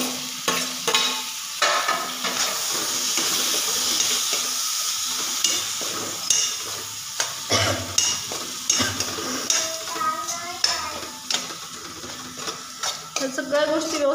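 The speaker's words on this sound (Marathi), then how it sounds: "सगळ्या गोष्टी व्यवस्थित परतून घ्यायच्या" Masala for matar paneer sautéed and stirred in a pan: steady close sizzle with frequent spatula scrapes and clinks against the metal, some in quick bursts, and no voices.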